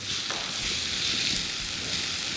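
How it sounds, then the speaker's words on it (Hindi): Browned onion and small chopped tomatoes frying in a pan for dhaba-style aloo sabzi, giving a steady, even sizzle with faint clinks underneath and no talking. "अब इसमें छोटे छोटे कटे हुए टमाटर लिए हैं, ये डालेंगे।"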